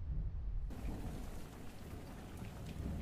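Steady rain falls in a story setting, a dense even hiss throughout with a faint low rumble that may be distant thunder, and no voices.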